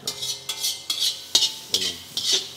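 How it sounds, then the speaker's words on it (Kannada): Boiled, chopped potatoes are being mashed in a bowl with a utensil, making about six rhythmic, evenly spaced squelching thumps with scraping. The strokes sound close, and no one speaks. "ಆಲೂಗಡ್ಡೆ ಹೆಚ್ಚಿ ಬೇಯಿಸಿ ಇಟ್ಕೊಂಡಿರೋದನ್ನ ಮ್ಯಾಶ್ ಮಾಡ್ಕೊಂಬ"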